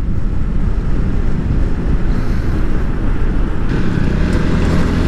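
Honda CB150R motorcycle ridden at speed, heard as a steady, loud roar of wind buffeting the microphone, with engine drone buried beneath it throughout.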